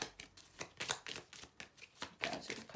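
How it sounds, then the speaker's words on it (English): A deck of tarot cards is shuffled by hand in a quiet room, giving a steady series of soft riffling and slapping bursts, close and fairly faint, with no speech. "I'll do a couple more shuffles."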